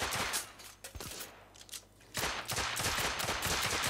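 Rapid bursts of gunfire from The Order: 1886 video game, with repeated sharp shots in quick clusters, loud and alone without talk.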